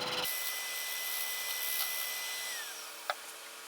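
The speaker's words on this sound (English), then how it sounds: "Do more of a scrape to it just to get that thinned out." A carving tool scrapes very lightly across a piece being thinned out on a flower podlet, a steady soft rasping that runs continuously with one brief sharper tick near the end.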